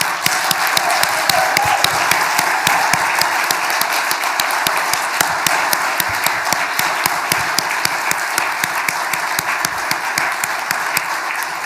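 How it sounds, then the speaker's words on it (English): A large audience at the 2021 New South Wales Australian of the Year Awards ceremony gives the standing nominees long, loud applause, with many distinct claps over a steady roar lasting nearly twelve seconds. "if we can give them a round of applause"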